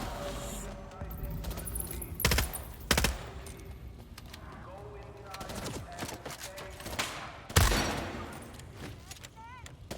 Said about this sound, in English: Oh, they're shooting at somebody.